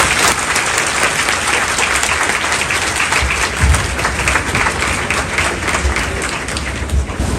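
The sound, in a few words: loud audience applause at coaching anniversary event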